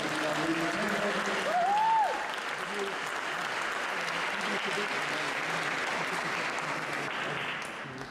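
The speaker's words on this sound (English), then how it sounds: "Can we just have another round of applause for the brilliant musicians?" A round of applause fills an awards ceremony hall at Rochdale Town Hall for the musicians, dense steady clapping from a large audience that sustains for several seconds, with a brief voice or whoop near the start before the applause fades slightly at the end.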